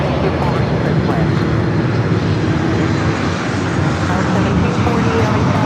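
Airliner jet engines roar steadily at LAX airport in Los Angeles, a loud, continuous broadband rumble filling the whole stretch with no breaks.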